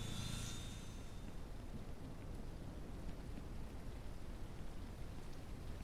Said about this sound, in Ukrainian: Судячи з усього, зараз буде якийсь дощ.